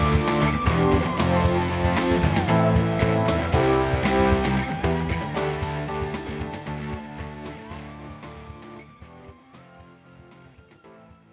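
A music track with dense chords and a steady beat gradually fades out in loudness, its level shaped by Audacity's envelope tool, and nobody speaks.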